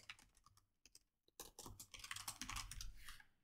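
Computer keyboard typing, quiet at first with a few scattered clicks, then a dense, rapid run of keystrokes for the last two seconds, close and alone with no talking.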